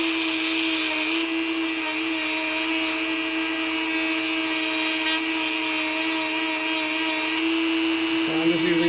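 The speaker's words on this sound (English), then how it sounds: "So I'm just using a basic grinder wheel with a Dremel 4300." A Dremel 4300 rotary tool fitted with a basic grinder wheel, used for clutch maintenance on a Grubee Platinum engine, whines steadily and loudly with a high buzzing tone for the whole stretch, shifting pitch slightly near the end.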